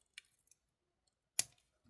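Wire cutters snipping the excess wire off a crimped beaded jewelry piece: a faint click early on, then one sharp, close snip, with tiny ticks of handling in a quiet room.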